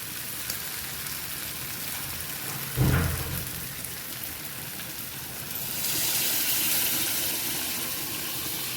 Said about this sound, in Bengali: এখন আমি ঝোলের জন্য একটু জল দিয়ে দিচ্ছি